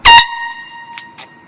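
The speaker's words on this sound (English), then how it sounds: "We're about to test this air horn out." A super loud air horn gives one short, piercing blast up close, then cuts off, leaving a faint ringing tail and a couple of soft distant echoes.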